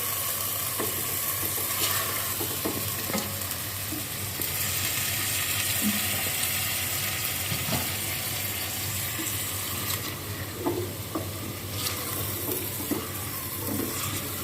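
Half a kilo of bone-in chicken sizzles steadily in a karahi, a continuous hissing fry with faint scattered pops and clinks throughout.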